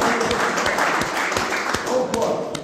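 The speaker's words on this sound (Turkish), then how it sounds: "Bunu alkışlayalım." An audience at a Turkish public-assembly TV discussion applauds, scattered claps and taps under ongoing speech, moderately faint and brief.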